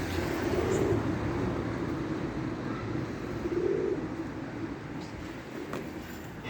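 Pigeons coo softly in low rounded bursts, two clear phrases over a constant noisy background rumble, fairly near.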